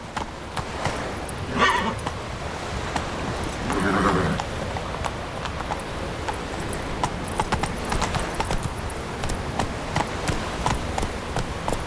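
Roach the horse galloping in The Witcher 3, quick rhythmic hoofbeats close by and continuous throughout, with a couple of brief louder bursts over an outdoor ambience.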